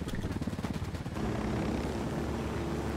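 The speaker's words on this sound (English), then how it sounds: "Because we got a chopper after us." A helicopter in Ghost Recon Wildlands chases close behind, its rotor thumping in a fast rhythmic chop that turns into a loud, steady roar of engine and wind.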